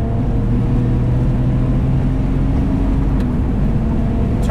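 A 515 HP RUF 996 RTurbo accelerates hard, its engine roaring loud and close with a dense, steady drone and a rising whine from the turbo while wind noise rushes over the car.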